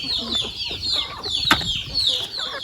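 Chickens cluck in short repeated bursts close by on a poultry farm where sick birds and chicks are treated, with overlapping calls and no talk.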